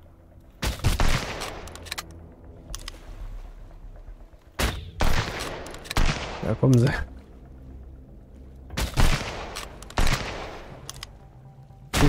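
Gunfire in the survival game Sunkenland comes as several sharp bursts and single shots spread across the stretch, loud and close, with someone talking between them.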